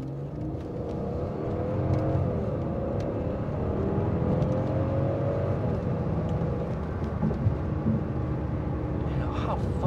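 A Mercedes CL600 with a twin-turbo V12 accelerates to merge onto a parkway, its steady engine drone and road roar heard from inside the cabin under continuous talking.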